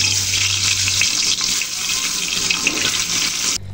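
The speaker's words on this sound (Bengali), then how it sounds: "ডিমগুলো ভাজার জন্য তেলটা একদম রেডি, তাই ডিমগুলো এক এক করে যোগ করে নেব।" Spice-coated eggs go one by one into hot oil for a Bangladeshi egg and potato curry, setting off a loud, close, continuous hissing sizzle that cuts off abruptly at the end.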